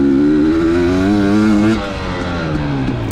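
An OMRA Outlaw Racing Drifter SE motorcycle on a race track roars loudly at high revs, pitch climbing, then drops and eases off as the rider lifts the throttle.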